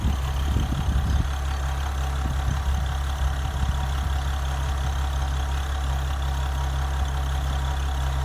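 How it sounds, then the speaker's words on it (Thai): An excavator engine idling steadily nearby after solenoid work, a low constant rumble with a smooth, unchanging hum and a few brief rattles early on. "รอบเดินเบา"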